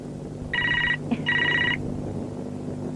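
A telephone bell rings indoors in two close bursts of bright, trilling electronic ringing against a quiet room hum, with no talking.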